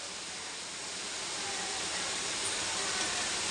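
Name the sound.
onions and green chilies sautéing in pan for crab curry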